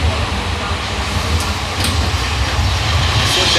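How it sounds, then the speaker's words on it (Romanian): A constant low rumble and rattle from inside a moving tram, loud and steady throughout, with wind buffeting the microphone. "Suntem pe tramvai."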